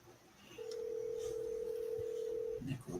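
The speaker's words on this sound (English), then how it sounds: "No, I'm hearing a phone ring." A phone ringing tone: one steady, sustained tone lasting about two seconds, moderately loud over a low background hum, followed by a brief rustle.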